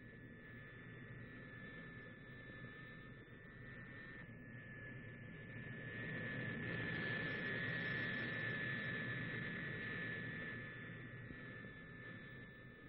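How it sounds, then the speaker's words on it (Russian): Turboprop engines on a Soviet carrier aircraft run up before takeoff in a steady, distant roar with a constant whining tone on top, swelling a little louder midway and then easing back, with no voices. "Заработали турбовинтовые двигатели."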